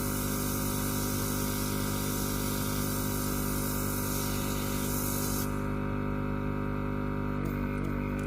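A nail airbrush sprays with partially blocked airflow, giving a loud, continuous broadband hiss that suddenly thins and weakens partway through, with small sputters near the end and no talking.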